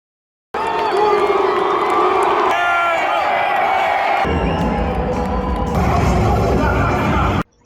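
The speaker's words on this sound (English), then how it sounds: "the crowd is definitely getting even more worked up than they were before" Lucha libre crowd in a Mexico City arena cheering, whooping and yelling, a loud sustained roar that surges and swells for several seconds before cutting off.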